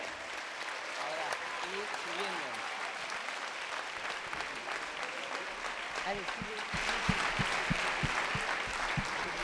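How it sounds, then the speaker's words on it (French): Sustained applause from an audience for school students after a poetry and music performance, steady dense clapping throughout with a few voices underneath, growing slightly louder toward the end. "on peut applaudir très fort ces élèves"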